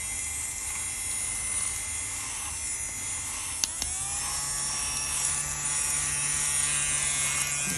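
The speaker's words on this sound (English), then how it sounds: "Let's vacuum it off." Vacuum cleaner sucking scratch-off dust from a lottery ticket, a steady close electric whine and hum running throughout with a brief click midway and no talking.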